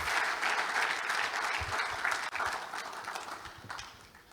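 Sustained audience applause closing a business conference talk by Access Holdings CEO Herbert Wigwe, a dense, steady wash of clapping from a large crowd that gradually thins toward the end.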